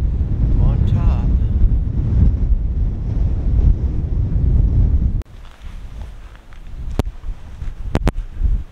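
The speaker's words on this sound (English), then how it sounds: "The Welsh wind" Strong Welsh wind gusting across an exposed hilltop at Caeirw Castle near the water, a loud steady roar buffeting the microphone for about five seconds, then dropping to a lighter rush broken by sharp knocks.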